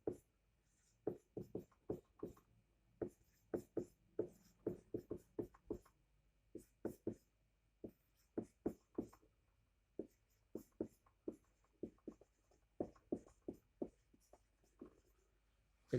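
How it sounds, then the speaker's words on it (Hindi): Marker strokes on a classroom board as multiple-choice answer options are written for a simple interest math question, in faint, scratchy bursts of short strokes with brief pauses between words, with no talking. "इसका ऑप्शन लिख देता हूँ मैं।"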